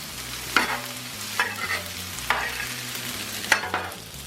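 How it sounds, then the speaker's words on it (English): Pre-cooked rice fries and sizzles on a Blackstone griddle for jambalaya, with a spatula sharply chopping and scraping it in four or five distinct strikes over a steady sizzle. "Got to get that rice, got to get chopped up and separated."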